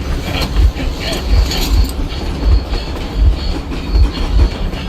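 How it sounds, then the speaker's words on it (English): Moving train in the Metro Exodus video game, with a steady rumble and loud, regular clickety-clack wheel beats roughly every second throughout. "Once again, Artyom jumps from one moving train to the other"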